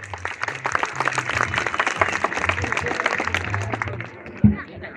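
Crowd applause at a community tournament in San Isidro, Oaxaca, a steady patter of many hands clapping for several seconds, with a voice speaking over it.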